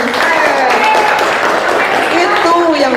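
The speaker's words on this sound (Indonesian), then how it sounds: "Tepuk tangan." Audience at a school guidance talk applauding together, a loud, continuous burst of clapping filling the whole clip, with voices and shouts mixed through it.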